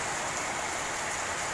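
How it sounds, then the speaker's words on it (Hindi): Heavy torrential rain pours down in a dense, steady hiss that stays loud and unbroken throughout, with no voices. "यहाँ पर देखिए आप लोग बारिश, मूसलाधार बारिश हो रही है।"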